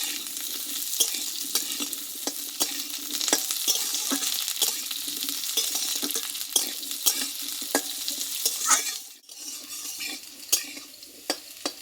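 Potatoes fry in a pan for a dry long-bean and potato curry, with a steady sizzle broken by repeated scraping stirs and clinks of a utensil against the pan, close and clear, no voices.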